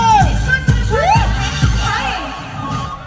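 Wedding guests at a tilak ceremony cheering and whooping loudly up close, with shouts and a pulsing beat under the crowd noise.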